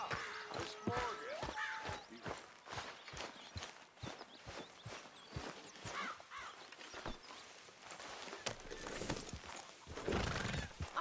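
A horse in Red Dead Redemption 2 clip-clops steadily on hard ground with a whinny early on, hoofbeats continuing throughout amid ambient outdoor noise.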